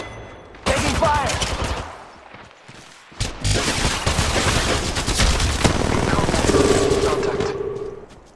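Rapid bursts of automatic gunfire and overlapping shots from an Apex Legends Mobile firefight, loud and sustained after a brief pause, with a faint tonal hum near the end.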